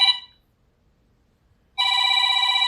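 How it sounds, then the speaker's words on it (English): A phone rings with a bright electronic trill that cuts off, leaving about a second and a half of silence before the next ring starts, loud and close. "Oh, I forgot to turn the phone off."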